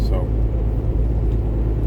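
Road noise fills the cab of a moving truck as a deep, constant rumble of tires and engine runs beneath someone talking close to the microphone.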